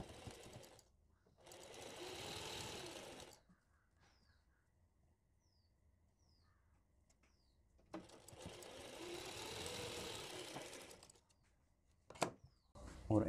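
An electric sewing machine stitches cord onto a kurti neckline in two steady whirring bursts separated by a quiet pause, with faint bird chirps in the gap.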